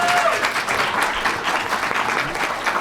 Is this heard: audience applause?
yes